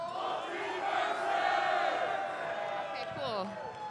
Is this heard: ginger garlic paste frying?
no